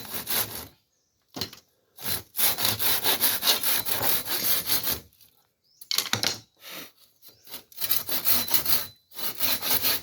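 A hand saw cutting bamboo floor slats at an angle, rapid rhythmic back-and-forth strokes in several bursts with short pauses, close and loud with no talk.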